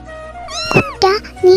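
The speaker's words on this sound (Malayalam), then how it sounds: "നീ എന്തിനാ പേടിക്കാൻ? അത് പൂച്ചയാ." A cat meows clearly, a few drawn-out calls rising and falling, close and fairly loud, with a brief squeal in the middle.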